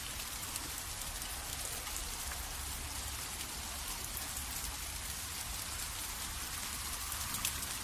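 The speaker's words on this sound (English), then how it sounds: "You guys can hear the rain" Rain falls outside an open window, a faint, steady hiss of drops on surfaces that carries on unbroken with nobody speaking.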